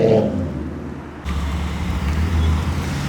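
A Ford Mustang rolling in on a wet road, its low engine rumble shifting after a brief lull and then holding as a deep, steady drone close by, with no talking.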